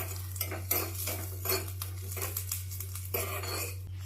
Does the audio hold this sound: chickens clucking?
no